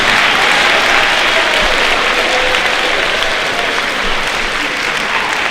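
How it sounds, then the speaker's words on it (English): High school audience applauding tenth-grade honor students at an honors day ceremony, loud sustained clapping filling a large room. "Give them a round of applause."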